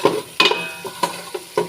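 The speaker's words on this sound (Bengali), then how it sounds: "একটু ভাজা ভাজা করব।" Garlic paste and mustard paste fry in oil over five-spice seeds for olive pickle, a soft sizzle punctuated by about five sharp scrapes and knocks of a spoon stirring the pan.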